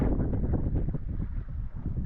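Strong wind buffeting the microphone while kayaking at sea near a mangrove spot in Varkala, a loud, gusty low roar that dips briefly near the end, with no voices.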